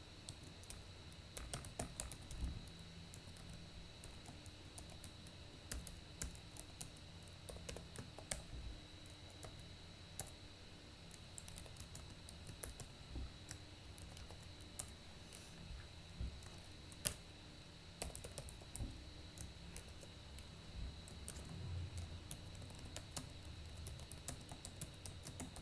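Programming code being typed on a computer keyboard in a lab, with irregular light keystrokes and occasional sharper key taps continuing steadily for nearly half a minute, quiet and close.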